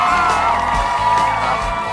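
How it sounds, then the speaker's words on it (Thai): Studio audience at a Thai talk show cheering, whooping and clapping to welcome a guest, a dense steady burst of crowd noise throughout. "ขอเสียงปรบมือต้อนรับโทนี่รักแกน"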